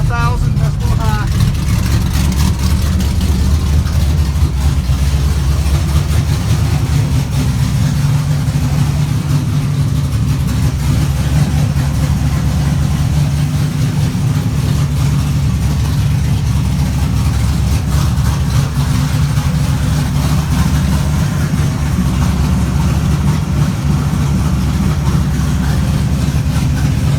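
A car engine idles steadily up close around 1,000 rpm with the electric fan on, a low continuous rumble with slight wavering, and someone talks over it now and then.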